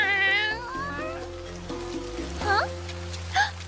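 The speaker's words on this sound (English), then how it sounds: "found a stray cat drenched in rain and shivering" A drenched, shivering stray cat mewing in sudden heavy rain: a drawn-out close meow, then a couple of shorter cries, over a low humming background and steady rainfall.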